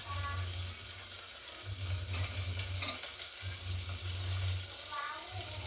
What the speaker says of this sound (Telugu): ఇవి వేడెక్కిన తర్వాత ఇందులోకి తరిగి పెట్టుకున్న ఆనియన్, కరివేపాకు వేసుకుంటున్నాను